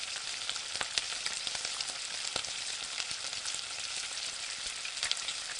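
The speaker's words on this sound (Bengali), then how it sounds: "দিয়ে দিচ্ছি হাফ বাটি পেঁয়াজ বাটা দিয়ে নেড়ে চেড়ে এক থেকে দু মিনিট ভেজে নিচ্ছি" Onion paste frying in a pan and being stirred for an egg and red lentil dal dish, a steady close crackling sizzle with scattered sharp pops and light scraping, and no one speaking.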